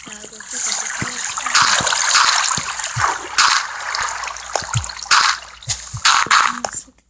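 Water trickling and splashing in an indoor setting, a steady wet rush with intermittent drips and splatters, continuous and fairly close, with a voice talking over it at moments.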